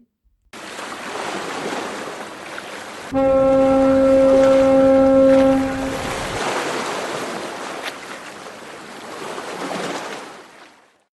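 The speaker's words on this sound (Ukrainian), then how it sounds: "Так, це пароплав, який подає сигнал." A steamship's deep horn blasts once for a few seconds over the wash of waves and wind.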